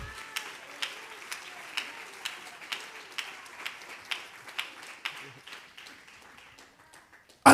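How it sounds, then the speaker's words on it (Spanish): Slow, sparse, evenly spaced claps from a church congregation during a Spanish-language sermon, roughly one clap every half second, faint and thin against a quiet room with a sharp knock at the very end. "Denle ese aplauso a Dios con todo su corazón."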